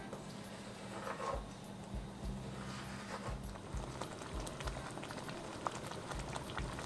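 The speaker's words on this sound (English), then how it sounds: "the masala has come to a boil, we'll reduce the heat and simmer it for about 10 minutes" A pot of masala sauce comes to a boil in a home kitchen, giving a steady, faint bubbling and popping that carries on throughout without a break.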